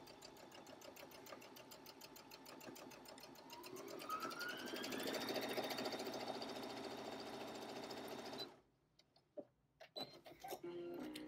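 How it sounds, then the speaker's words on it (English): A Brother SE1900 sewing and embroidery machine stitching stretch material, a smooth, quiet, rapid mechanical whir that speeds up and steadies, then stops abruptly, leaving a few faint clicks. "The machine operates very smooth. It's very quiet because the hook is rotating all the way around my bobbin."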